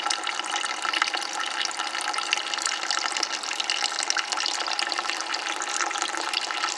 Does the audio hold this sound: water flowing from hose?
yes